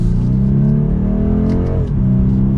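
A 2022 BMW 230i coupe with a four-cylinder engine pulls hard in Sport Plus mode, a loud, steady engine drone rising in pitch as it gains speed, with a brief dip near the end.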